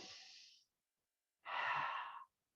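Two slow, deep breaths during a yoga session, close and clear, a long airy exhale followed after a pause by a fuller, louder breath.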